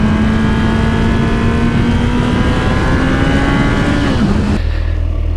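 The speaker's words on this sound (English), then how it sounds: "Pushing the ZX14 around a corner." A Kawasaki ZX14 motorcycle leaning hard through a corner, its engine droning loud and steady at high revs, then the pitch dips and the sound cuts off sharply.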